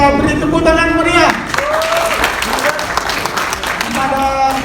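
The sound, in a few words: audience applause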